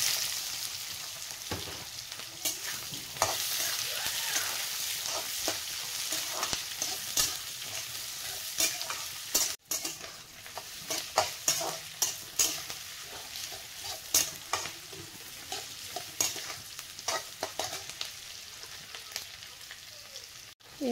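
Onions and dried chillies fry in hot mustard oil for a taro stem curry. A steady close sizzle carries throughout, broken by the scrape and clatter of stirring in the pan.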